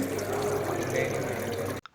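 Water pours over a Bluarmor motorcycle intercom during a waterproof test, a steady broadband splashing rush that cuts off abruptly near the end.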